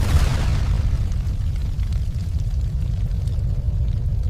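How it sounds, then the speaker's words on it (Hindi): A deep, sustained explosive rumble from a harbour attack on ships in 1971 dominates throughout, heavy and booming with low-end roar after an initial blast. "एक के बाद एक धमाके।"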